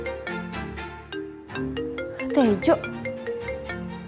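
A mobile phone ringtone plays as a short melodic electronic tune over background music, close and clear, with a person speaking briefly over it.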